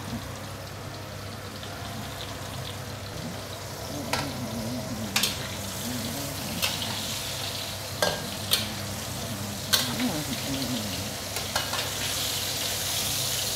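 Prawns stir-frying in a wok over high heat for Kung Pao prawns with cashew nuts: a steady loud sizzle of hot oil with sharp clicks and scrapes from stirring, close and continuous.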